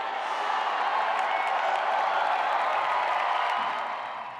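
A large crowd of pilgrims gathered at night below a balcony where the Pope stands, producing a dense, steady roar of cheering and applause that holds loud throughout and eases slightly at the end.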